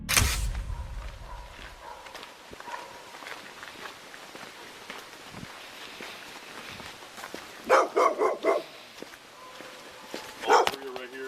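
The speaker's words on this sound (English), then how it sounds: "The aggressive dog is in the car." An aggressive dog barks from inside a closed car, muffled at first, then in sharper bursts later on, with footsteps and faint voices around the vehicle.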